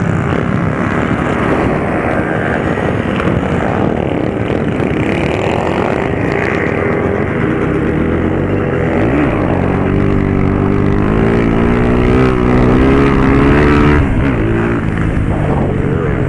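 Close, continuous motorcycle engine drone while riding at a motorcycle event in Papagaios, Minas Gerais, with rising and falling revs, loud and steady throughout with no voices.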